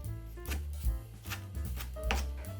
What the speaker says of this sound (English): Chop the kimchi into small pieces.